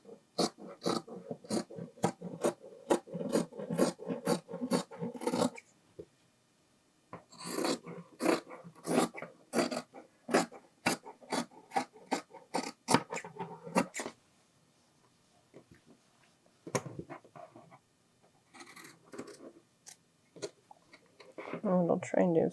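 Scissors snip through glove fabric in quick repeated bursts, each run of sharp cuts separated by short pauses, close and fairly clear with a little faint handling noise.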